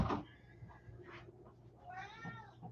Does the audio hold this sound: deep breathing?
no